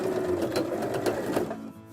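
A sewing machine runs steadily, stitching elastic onto a fabric face mask with a quick, even mechanical whir that fades toward the end.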